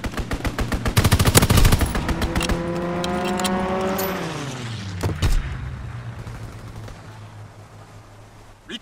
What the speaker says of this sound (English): Fighter pilot inbound,